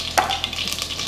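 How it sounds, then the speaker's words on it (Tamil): Mustard seeds sizzling and crackling in about five spoons of hot oil while making a tomato kurma curry, with a sharp pop near the start and a steady frying hiss underneath, heard up close and alone. "கடுகு ஒரு அரை ஸ்பூன் சேர்த்துக்கலாம்."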